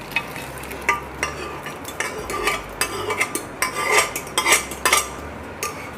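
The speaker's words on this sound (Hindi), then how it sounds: "सारी दाल को इसमें मैं डाल रही हूँ।" Urad dal being poured into a pot for a dhaba-style tadka, with scraping, clinking metal-on-metal stirring strokes and a faint sizzle underneath, irregular and close, no voices.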